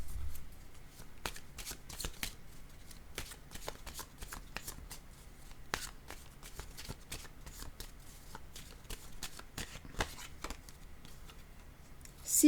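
Oracle cards being shuffled by hand, a quiet, steady run of soft papery riffles and flicks with no talking over it.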